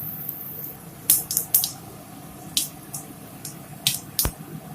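Cumin seeds dropped into hot mustard oil in a wok, giving a handful of sharp crackles and pops scattered irregularly over a low steady background hiss, close and fairly loud.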